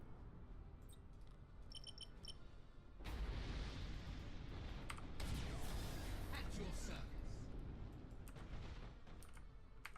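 Torpedoes fire and explode in an Eldar fleet battle game, a sudden dense roar of blasts and impact rumble starting a few seconds in and staying loud, over a steady background of game effects.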